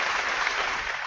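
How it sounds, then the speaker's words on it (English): Recorded applause sound effect played back, a steady wash of many hands clapping with no pauses across the short stretch. "I'm trying to find the applause"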